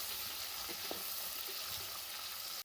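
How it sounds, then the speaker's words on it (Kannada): Onions fry in oil for egg biryani, giving a steady, soft, broad sizzling hiss with faint crackles throughout. "ಉಪ್ಪು ಹಾಕೊಳ್ಳಿ, ಚೆನ್ನಾಗಿ ಫ್ರೈ ಆಗಲಿ ಎಲ್ಲ ಈರುಳ್ಳಿ ಮಸಾಲೆ ಎಲ್ಲ ಹಾಕ್ತಾ ಇದ್ದಂಗೆನೆ."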